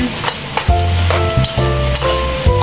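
Flat noodles with beans and carrots stir-fried in a hot pan, giving a loud steady sizzle broken by rhythmic scraping stirs about every half second, with no voices.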